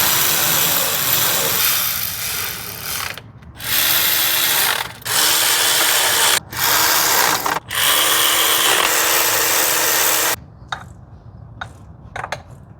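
A power tool snugging bolts down during reassembly around a propeller, running in several loud, sustained bursts separated by brief pauses, close up, then a few short spins near the end, with no talking.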